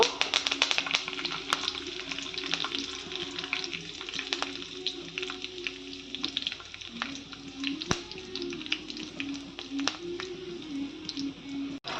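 Mustard seeds and curry leaves splutter in hot oil for a broad bean fry, a continuous close sizzle with sharp popping crackles and occasional taps of a spoon.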